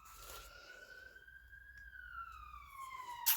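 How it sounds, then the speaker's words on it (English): Sirens wail faintly in the distance, one rising and falling tone sweeping slowly with harmonics, alone over a quiet low background rumble. "I'm just hearing the sirens"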